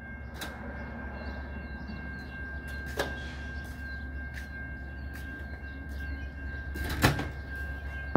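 A Chicago-area metro train rolls into Prospect Heights station on the line toward Antioch, a steady rumbling wash of wheels and carriages with a sustained high whine and a few sharp clanks, no voices.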